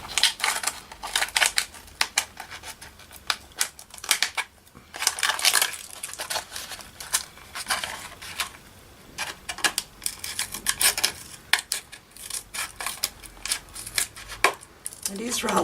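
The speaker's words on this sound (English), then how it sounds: "I'll just grab my sharp little scissors and just tidy up down in here." Small sharp scissors snipping through firm material, a quick irregular series of close crisp cuts and clicks with brief pauses between bursts.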